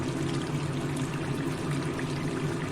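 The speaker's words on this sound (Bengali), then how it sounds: "পরিমাণ মতো আমি জল দেব অল্প অল্প করে" Water trickles and pours steadily into a pan of yogurt chicken curry, a soft, continuous close-up stream with no voices.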